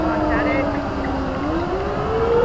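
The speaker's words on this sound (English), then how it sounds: "Sirens are blowing in Chazy." A civil defense siren wails in Chazy during a high school baseball game, its steady tone slowly rising in pitch, loud and continuous under a commentator's voice.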